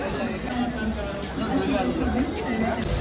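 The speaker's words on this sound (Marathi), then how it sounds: "ही गर्दी बघा, नोटीस करा बाबा, पहिल्यांदा एवढी गर्दी बघतोय बघा" Crowd chatter fills a busy platform at Borivali railway station, a continuous babble of many overlapping voices with some nearer talkers standing out.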